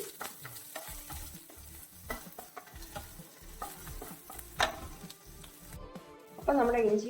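Ginger and garlic frying in oil over a medium flame for vegetable kurma, a steady close sizzle with stirring scrapes throughout and a louder burst near the end.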